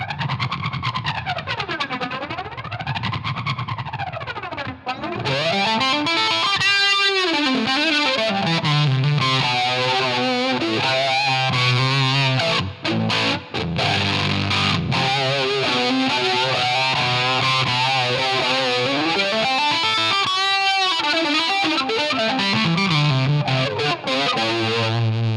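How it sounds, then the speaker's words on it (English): Electric guitar through a Line 6 HX Stomp flanger, its tone sweeping up and down in swooshing jet-like arcs, loud and distorted in a Van Halen-style tone, continuing throughout with no voices. "now with the flanger on, we're going to get this type of a sound here."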